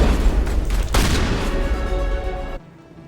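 Shotgun fire in the video game Mass Effect 1: loud, dense booming blasts run together almost continuously, then cut off abruptly into a quieter tail.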